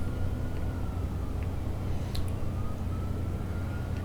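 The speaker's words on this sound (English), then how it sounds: "Got some sirens going on outside, if you can hear that." An ambulance siren wails outside an apartment building, a faint distant rising-and-falling tone heard through a steady background rumble.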